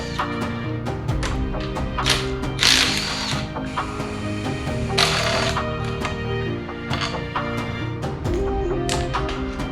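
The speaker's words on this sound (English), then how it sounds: "Now remove the bolts and disconnect the transmission." A ratchet wrench removes transmission bolts during engine removal on a Mitsubishi 3000GT VR4 twin turbo, giving close, loud bursts of rapid clicking with short pauses and metallic clanks between strokes.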